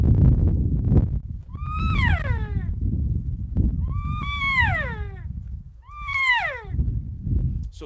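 Three descending nasal squeals from a hand-held elk call imitating a cow elk mew, each about a second long and spaced evenly, loud and close with breathy handling noise between.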